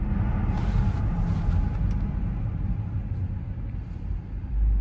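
An Audi on a test drive after fixing adaptive cruise control and brake guard faults, a continuous low engine and road rumble heard from inside the cabin, steady and moderately loud with a swell near the end.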